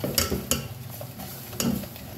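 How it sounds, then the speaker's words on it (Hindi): Milk being stirred very quickly into lasagna sauce in a pan, a run of brisk scraping strokes with a few sharper clinks, close and fairly quiet, with no voices. "हमें बहुत तेजी से इसमें चलाना है।"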